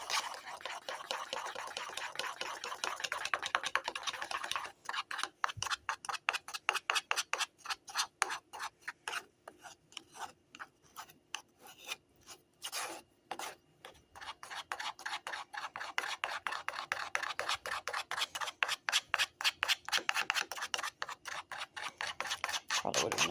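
Bread pudding batter made with sweetened condensed milk is stirred in a bowl with a tablespoon, giving a fast, steady run of close scraping and clinking strokes that pause briefly midway, then pick up again.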